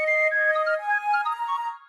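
Bright synthesized flute-like tones play a quick stepping melody with layered harmonics, loud and close, with no voices.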